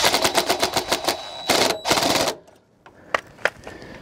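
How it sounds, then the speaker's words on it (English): A 7/16 socket ratchet clicks rapidly in quick bursts while tightening 1/4 inch bolts, followed by a quiet pause and a few sharp isolated clicks and taps. "Basically take a 7/16 socket. You're going to want to ever so slightly tighten those down."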